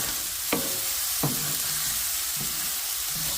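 Veggie fried rice sizzles steadily in a pan with an even hiss, broken by a few sharp scrapes and clinks as it is stirred, close and clear with no talking.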